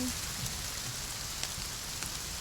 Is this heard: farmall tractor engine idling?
no